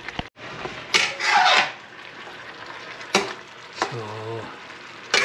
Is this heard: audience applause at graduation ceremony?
no